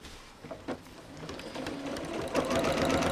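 A sewing machine stitching pleats in place on a double-layer fabric sling starts with a few clicks and then runs as a steady close whir that builds slightly toward the end.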